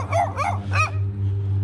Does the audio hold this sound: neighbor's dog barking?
yes